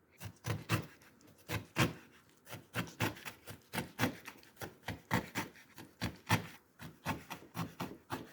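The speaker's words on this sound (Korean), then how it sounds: "김치는 잘게 쏭쏭 썰어 줍니다." Knife chopping a month-old, well-fermented kimchi finely on a cutting board, a steady series of crisp, close knocks in quick irregular rhythm.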